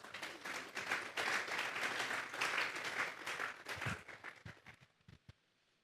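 A church congregation claps together in a sustained round of applause that thins out toward the end into a few scattered, isolated claps before fading to quiet.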